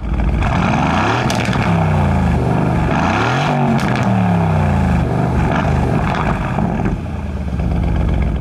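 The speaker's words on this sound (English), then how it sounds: "Once you have it in Track, take a listen to the exhaust then." A 2021 Aston Martin Vantage Roadster's exhaust in Track mode roars loudly up close, revving up and down repeatedly in a deep, rasping drone.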